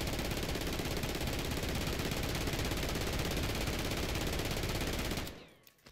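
A Holger 26 light machine gun fitted with a JAK Burnout kit fires one long unbroken automatic burst in a video game, dense rapid shots at steady volume that cut off sharply near the end.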